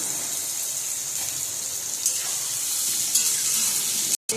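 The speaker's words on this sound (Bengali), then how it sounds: "ভেজে দিচ্ছি আমি, ভালো করে লাল লাল করে ভাজা করবো।" Chicken frying with sugar for chicken kosha, a steady close sizzle and hiss with a few faint stirring clicks, briefly cutting out near the end.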